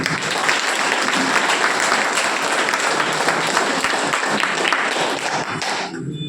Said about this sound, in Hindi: एक बार जोरदार तालियां खुद के लिए